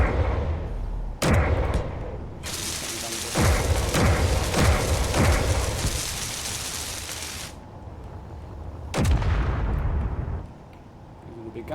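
Big guns firing in the space combat game Space Engineers, delivering heavy booming blasts with long rumbling tails, several in quick succession, then a pause and another loud burst fading out.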